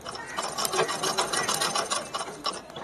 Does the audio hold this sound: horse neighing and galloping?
no